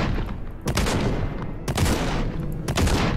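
Grenade launcher fire in the Project Warlock 2 shooter game, three heavy booming blasts about a second apart, loud and close, each followed by a rumbling tail.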